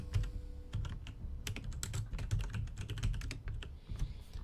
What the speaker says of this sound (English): Actually, while I'm typing up here, Rob